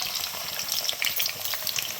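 Onion frying in hot oil with a pinch of garam masala for matar pulao, a dense, close crackling sizzle with stirring scrapes throughout.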